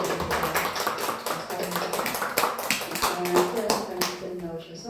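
A church congregation claps at a Sunday service, a dense, close patter of many hands that keeps a fairly even level for several seconds, with some voices mixed underneath.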